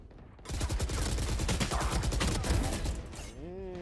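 Rapid automatic fire from an M4-type rifle in the Valorant video game, a dense burst of closely spaced shots lasting about two and a half seconds, loud and close, ending with a short game effect.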